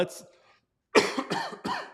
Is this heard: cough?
yes